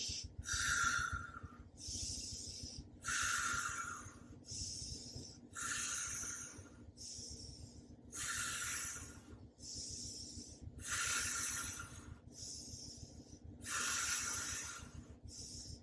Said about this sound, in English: So breathing in, breathing out, no pause.